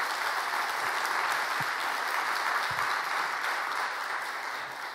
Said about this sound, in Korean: 우리 박수 한번 드릴까요?